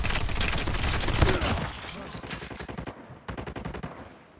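Automatic gunfire in the mobile shooter Call of Duty Mobile, rapid bursts of shots rattling in quick succession, loud at first, then a brief lull before another sharp volley, with game effects mixed in.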